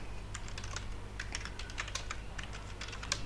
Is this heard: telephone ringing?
no